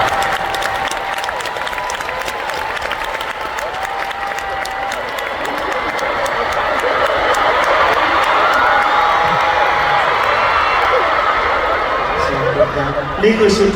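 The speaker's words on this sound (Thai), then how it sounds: "ขอเสียงปรบมือดังๆต้อนรับ คุณนนทนนค่ะ" A live audience breaks into sustained applause and cheering to welcome a guest on stage at a talk-show event, dense clapping swelling louder midway, with a host's voice and scattered whoops over it.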